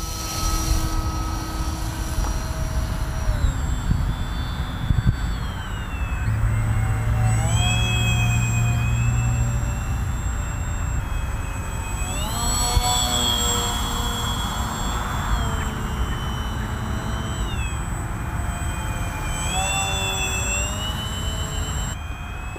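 A Bixler 3 RC plane's electric motor drones steadily in flight, its whining pitch rising and falling as the throttle changes, heard continuously over light wind.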